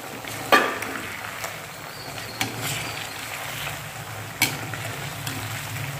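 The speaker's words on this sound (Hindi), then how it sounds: "वो गोले का जो हमने पेस्ट बनाया था उसको डालने के बाद अच्छे से भुनाई कर लेंगे" Ground coconut paste masala frying with chicken in a pan, a steady soft sizzle running throughout with a few brief clatters of stirring, close and moderately quiet with no talking.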